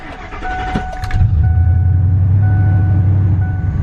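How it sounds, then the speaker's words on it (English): An old truck stuck in mud cranks briefly, then its engine catches and settles into a loud, steady low rumbling idle, heard close up without talking. "So let's fire the old truck up."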